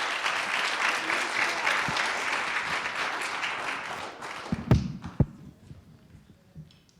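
An audience applauds after a student presentation at a venture incubator demo day, a dense burst of clapping that thins out into a few scattered final claps and fades.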